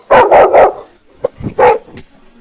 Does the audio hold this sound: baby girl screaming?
no